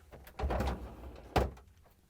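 An LG/Kenmore refrigerator drawer slides back onto its rail guide assembly, its rollers riding over the rail rollers, giving a rolling scrape followed by a sharper bump as it seats, close and fairly quiet.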